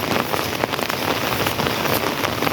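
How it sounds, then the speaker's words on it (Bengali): Steady, heavy rain pours down on a Thursday morning in a Kuliarchar village in Bangladesh, a dense continuous hiss of drops striking surfaces close by, with no voices. "আজকে বৃহস্পতিবার সকালে জোরে জোরে বৃষ্টি হচ্ছিল এখন বৃষ্টির তাপ পরিমাণটা একটু বেশি"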